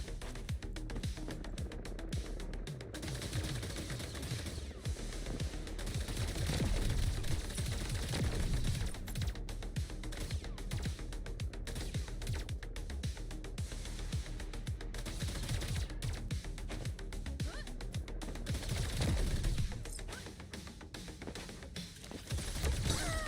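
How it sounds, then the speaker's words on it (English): Rapid automatic gunfire in a shooter video game: steady fast rattling bursts running almost without pause under a thick, busy layer of game sound, moderately loud throughout. "Oh my god, they shoot so fast. I'm trying to shoot the guy that's shooting at me."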